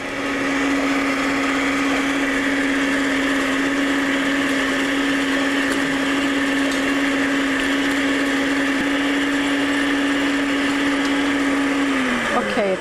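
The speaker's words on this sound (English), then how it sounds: "So we're going to first beat the 2 eggs until they're foamy" Electric hand mixer beating two eggs until foamy in a bowl, a steady high-pitched motor whine with beaters rattling, continuous for several seconds before winding down at the end.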